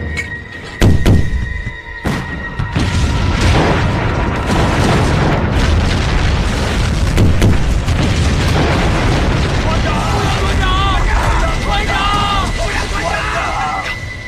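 Heavy artillery barrage in a war drama: a sharp blast, then deep booming explosions and rumbling debris roll on continuously and loud, with shouting voices over the tail end.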